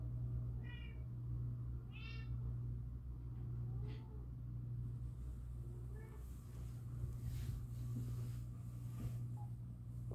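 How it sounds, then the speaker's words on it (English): A domestic cat in an apartment meows several times at close range, short rising calls spaced a second or two apart over a continuous low rumble of background noise. "Go see what this cat wants."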